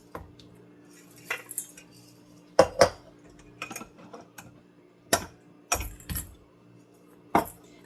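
Lentils being washed in a pot: sparse, sharp clinks and clatters of metal and grains knocking against the vessel, separated by quiet pauses, with a faint steady hum underneath.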